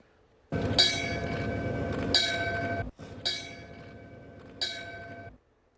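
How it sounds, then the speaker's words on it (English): Four loud bell strikes ring out one after another at a memorial tribute for wildfire victims, each chime sustaining and slowly fading before the next, with no talking. "You heard those bells ringing out for each life lost in this emotional tribute."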